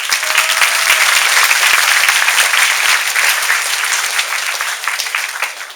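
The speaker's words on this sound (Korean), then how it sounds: "박수 한번 칩니다" Students and staff at a Korean high school assembly clap to celebrate the school's record number of first-round Kyungpook National University admissions, a loud, dense burst of applause that stays full throughout and thins a little near the end.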